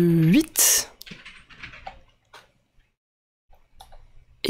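A few soft computer keyboard clicks for shortcuts in planetarium software come in sparse, quiet taps after someone speaks at the start, with long near-silent gaps between them.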